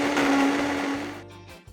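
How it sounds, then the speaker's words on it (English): Countertop blender whirring loudly as it crushes soaked almonds with water, a steady motor drone that winds down and cuts off toward the end. "you just wanna blend long enough to really get those almonds crushed up and incorporated into the water"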